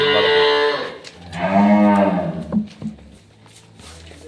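Dairy cows at a farm selling high-quality milking cows and calves low loudly and nearby, one long drawn-out moo followed by a second deep call, then quieter rustling.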